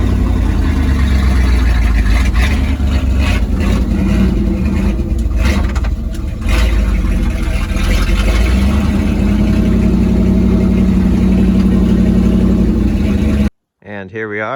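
A 1952 Dodge M37 truck engine with a rebuilt Motorcraft junkyard carburetor idles steadily and loud up close, a low continuous rumble with slight surges, ending in an abrupt cut.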